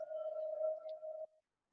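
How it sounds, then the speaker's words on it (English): Metal cables vibrating in the wind give off an eerie, steady resonant hum, a single pure sustained tone that holds for just over a second before fading out into silence. "What you're hearing is literally the wind causing vibration in these metal cables."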